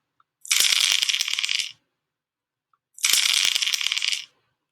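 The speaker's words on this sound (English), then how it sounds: "Another fun tool is, if you're playing a game, is the dice. And there's even a little sound effect." A dice roll sound effect from the Classroom Screen classroom tool: two separate bursts of clattering rattles, each lasting about a second, clear and close with silence between them.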